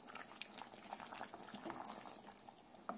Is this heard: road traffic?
no